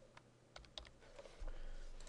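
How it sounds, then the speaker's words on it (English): Quiet, close typing on a computer keyboard indoors: a handful of separate key clicks with small gaps between them, then a low background hum. "So I'm just going to type Hotmail."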